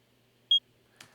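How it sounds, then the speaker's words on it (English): A single short, clean electronic proximity beep, bright and tonal, followed a moment later by a faint soft click. "Proximity is just one beep, and that beep is repeated faster and faster and faster as it gets closer to you."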